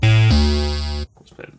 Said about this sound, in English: now you can hear some actual proper bass noises